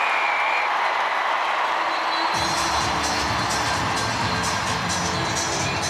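Rugby stadium crowd at a women's Six Nations match between England and Ireland erupting in cheers and applause after a try, a sudden swell of roaring and clapping that stays loud, with a commentator's voice over it.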